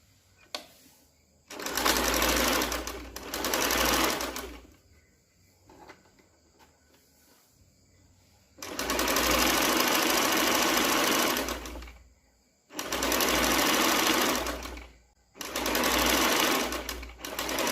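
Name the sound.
sewing machine stitching blouse neckline facing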